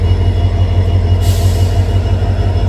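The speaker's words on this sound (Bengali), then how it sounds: "চলো, ট্রেন লাগিয়ে রয়েছে মরিয়ানি 3 নম্বরে। দেখো ট্রেন লাগিয়ে রয়েছে।" The Nagaland Express stands at platform 3 of Mariani station, a steady low mechanical rumble of the idling train filling the scene, loud and continuous with a faint hiss, no voices.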